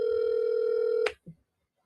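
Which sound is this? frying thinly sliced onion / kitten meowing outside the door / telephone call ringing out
telephone call ringing out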